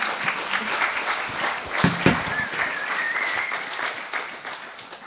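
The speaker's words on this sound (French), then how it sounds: "Est-ce qu'on pourrait l'applaudir encore une fois" A church youth-group audience claps after a Christian rap testimony, a moderate wash of handclaps that holds steady for several seconds, with a brief louder burst in the middle and faint voices underneath.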